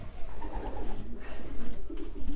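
Racing pigeons brought to a club building before a race coo in low, overlapping murmurs, close and fairly loud, amid shuffling and rustling with no speech.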